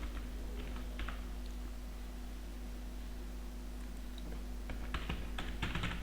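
A computer keyboard is typed on in scattered clusters of soft key clicks over a steady background hum, with denser bursts toward the end.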